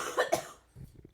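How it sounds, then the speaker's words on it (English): A few close coughs in quick succession, fairly loud, followed by quieter low throat noises. "The coughing."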